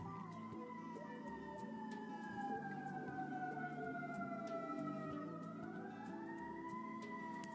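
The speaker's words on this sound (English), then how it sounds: "I just wanted to let those sirens go by" A wailing siren sweeps slowly up and down in pitch, distant and steady over a low rumble of traffic, with no talking.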